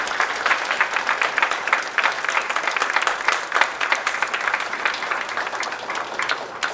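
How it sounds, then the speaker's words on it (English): Audience applause for council candidates at a League of Women Voters ward forum, a continuous spread of many hands clapping at moderate loudness, with no voices over it. "And applause"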